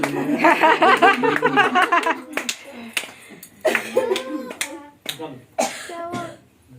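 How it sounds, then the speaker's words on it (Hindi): Family members clapping and cheering at a home twelfth wedding anniversary celebration, a quick burst of claps at first, then scattered claps among excited voices, laughter and chatter. "बजाओ तालियां।"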